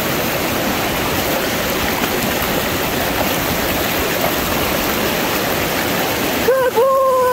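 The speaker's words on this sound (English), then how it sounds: "One more water crossing at the head of a big waterfall." A big waterfall at a stream crossing in Idaho's Sawtooth Wilderness pours with a loud, steady roar of rushing water. A brief voice cuts in near the end.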